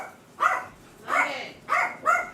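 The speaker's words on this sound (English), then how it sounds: "The dog." A dog barks four times in an uneven rhythm, each bark short and fairly close, with brief quiet gaps in between.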